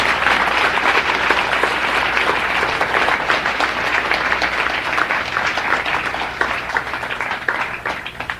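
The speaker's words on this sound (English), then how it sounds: "Thank you for the claps." Live concert audience applause following a song, loud and sustained clapping from a crowd for about eight seconds, dense and even, slowly thinning toward the end.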